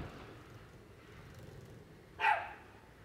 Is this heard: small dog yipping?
yes